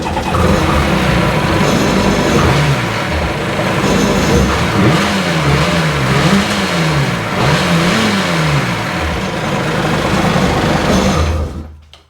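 Sea-Doo GTX Di jet ski engine running loud and close, held at a steady high drone that rises and falls in a couple of wavering revs before cutting off at the end, with no talking.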